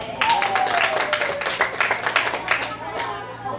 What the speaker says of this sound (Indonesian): Pada tepuk tangan dulu.